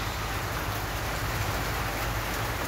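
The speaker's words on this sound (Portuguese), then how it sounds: "Ó, tanta chuva." Heavy rain pours steadily and densely on a Tuesday, a constant, loud, broadband hiss with no pauses and no voices over it.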